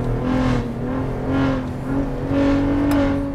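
Engine of a 2022 Ford F-150 Raptor pickup revs up and falls back in a few pulses, feathered throttle around a downshift, heard close with a droning low tone and no talk.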